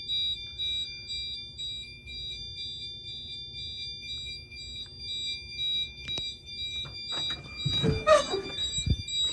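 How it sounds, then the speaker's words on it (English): A fire alarm in a garage building sounds as a steady high electronic tone that keeps going without a break. Near the end, faint knocks and scuffs come through. "Fire alarm in garage building B."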